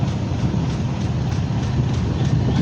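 Lalmoni Express, an intercity train bound for Dhaka, runs through Kamarpara station without stopping. A loud, steady rumble of rolling cars fills the whole stretch, with a faint clickety-clack and no voices.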